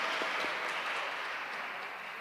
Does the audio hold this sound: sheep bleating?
no